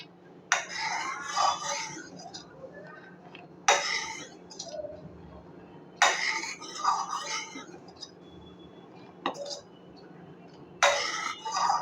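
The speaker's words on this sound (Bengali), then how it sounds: "তাহলে আমি নেড়ে নেড়ে দুধটাকে খুব ভালো করে জাল করে নিচ্ছি" A spoon scraping and stirring milk in a pot for millet (kaun rice) payesh, coming in distinct bursts every few seconds with quiet gaps of low hum in between.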